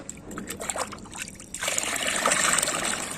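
Water trickles and swishes gently, building to a steadier pour in the second half, close by and fairly quiet.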